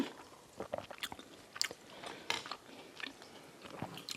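Close, wet chewing of Korean rice cake soup, with sticky, chewy bites and soft clicks coming in an irregular rhythm over a quiet room, and no talking.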